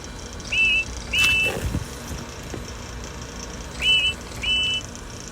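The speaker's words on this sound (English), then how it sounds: "Then Edward heard a whistle" A steam engine's whistle sounds in short, high tooting bursts, two quick blasts, a pause, then two more, over a faint rumbling background.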